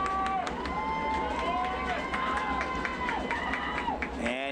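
Football crowd at a Mountain Ridge vs Dixie game cheering and yelling together in a packed stadium, a broad roar of many voices answering a public-address call.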